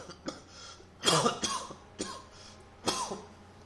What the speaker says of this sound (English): Keep coughing, sorry for that.